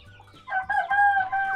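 Farmyard chickens cluck and call close by in a short, loud burst of rising, strained clucks that starts after a brief quiet moment.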